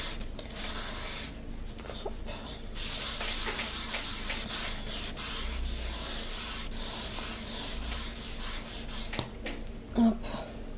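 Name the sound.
wiping and cleaning the work surface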